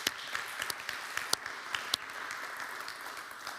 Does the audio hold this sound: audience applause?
yes